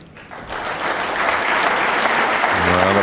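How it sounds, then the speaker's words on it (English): A snooker crowd at the 1997 World Championship final breaks into applause, swelling from quiet to a steady, full round of clapping. "Well, applause"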